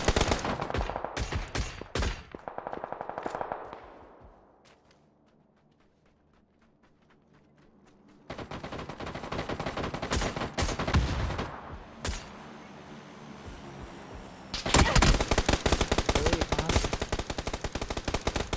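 Rapid bursts of automatic gunfire in PUBG on PC crackle loudly in clusters, pausing for a few seconds of near quiet before dense volleys resume.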